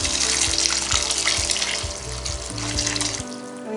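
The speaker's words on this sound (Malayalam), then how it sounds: "ഇനി നമുക്ക് ഈ വെള്ളം ഇതിലേക്ക് ഒഴിച്ചു കൊടുക്കാം." Water pours steadily into a pan for vegetable pulao, a continuous close splashing rush with a low hum underneath.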